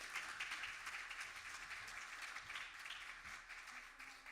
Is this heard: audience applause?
yes